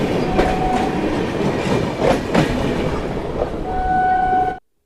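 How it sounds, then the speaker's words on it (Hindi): Train wheels clatter rhythmically over railway track aboard the Kanpur–Lucknow Intercity Express, loud and close, with a few sharp squeals and a brief tonal whine before the sound cuts off abruptly. "और भाई ये जो रेलवे ट्रैक की जो आवाज़ होती है ना, सुनने के लिए कान तरस जाते हैं।"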